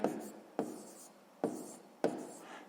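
A pen or pencil writing a math answer on paper, four distinct strokes or taps spaced irregularly, close and fairly quiet with no talk.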